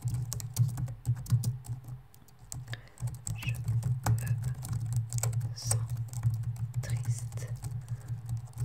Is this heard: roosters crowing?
no